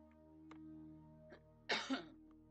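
A single short cough close by, preceded by a couple of faint throat sounds over a low steady hum.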